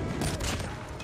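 Rapid gunfire in the Call of Duty Mobile shooter, a dense burst of shots crackling close and loud across the whole moment with no pauses or talk.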